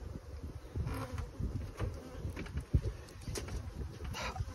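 Bees buzzing around beehives during a linden nectar flow, a dense, steady swarm hum with individual insects passing close, fairly faint outdoors, with some bird or dove calls in the background.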